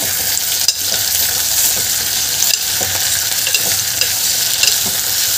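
Beetroot, carrot and tomato sauté in a pan for soup while being stirred, a loud, dense sizzle with steady scraping and occasional clinks, and no voices.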